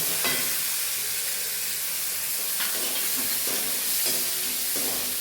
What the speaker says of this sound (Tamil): அடுத்து வெங்காயம் போட வேண்டும். ஒரு கப் வெங்காயம்.